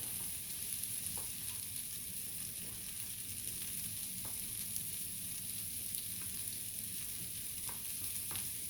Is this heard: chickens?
no